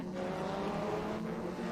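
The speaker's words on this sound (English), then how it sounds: "there is a problem with the sound of the cars in exterior view." A race car's engine heard from outside in the Assetto Corsa EVO racing game gives a steady, droning tone that holds at one level throughout, with no talk over it.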